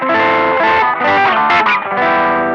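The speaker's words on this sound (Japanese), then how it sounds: "これがチューブスクリーマーですかね。" An electric guitar through a Tube Screamer overdrive model on a ZOOM MS-50G multi-effects pedal plays loud, continuous chords and single notes with a slightly warm, mid-heavy crunch, no voices present.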